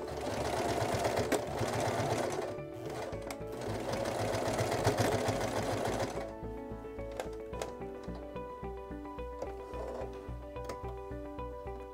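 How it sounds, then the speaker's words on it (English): A sewing machine stitching down the elastic casing of a cloth diaper, a steady close mechanical whirring run that pauses briefly, then resumes at a slower, clicking pace. "you want to just sew it down at the top of the casing there"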